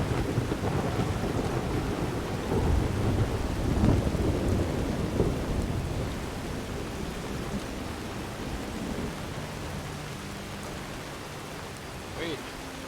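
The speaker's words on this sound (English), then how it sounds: "Oh, good, it's raining again." Rain and rolling thunder in the video game Skyrim, a steady wash of rainfall with low rumbling swells early on that fade to a softer patter.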